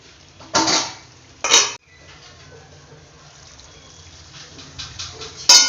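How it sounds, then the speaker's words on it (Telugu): Metal lid set onto a pot of chicken cooking, with two bright clanks close together early on and another clink near the end, plus quiet bubbling in between. "కొంచెం మూత పెట్టేద్దాం"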